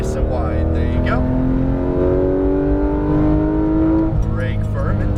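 A Porsche 911 GT3 RS engine pulls hard on a race track, its loud rising tone climbing steadily and then easing, with a voice speaking briefly over the steady close roar.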